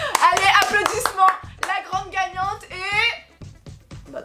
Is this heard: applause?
yes